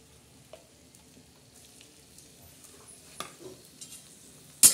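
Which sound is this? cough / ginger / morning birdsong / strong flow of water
ginger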